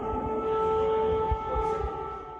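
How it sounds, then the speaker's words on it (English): Air raid sirens wailing in Russia's Kursk region during a drone attack, a steady sustained tone heard from a distance over low rumbling background noise, with no talk. "Sirens could be heard in Russia's Kursk region as Ukraine reportedly attacked with dozens of drones"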